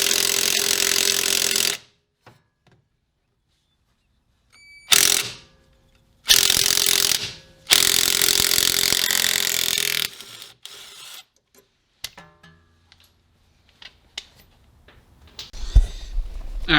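A ratchet clicks through several loud bursts while removing bolts from the front fork of a stanced Honda CR-V RD1. Long runs of close ratcheting come first, then quieter scattered clicks and handling noise.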